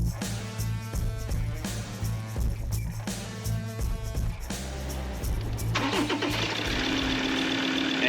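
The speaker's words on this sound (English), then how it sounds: "And I can't start my car again." Ford car engine cranking repeatedly without catching, steady whirring starter bursts near the mic, then a rougher, brighter churn toward the end.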